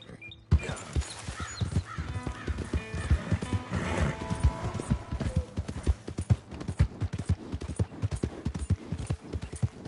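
A horse in the video game Red Dead Redemption II whinnies and then clip-clops steadily over a game soundscape, hoofbeats close and continuous for several seconds.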